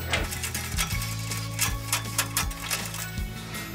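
Tension mechanism on an upgraded bandsaw being tightened by a handle above the blade, giving close, repeated mechanical clicks and ratcheting ticks over a low steady hum, with no talk.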